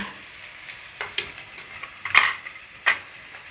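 Potato masala with tomato and chilli, coriander and turmeric powders being stirred and sautéed in a pan: a soft steady sizzle with a few sharper scrapes of the spoon, close and moderately loud, with no talking.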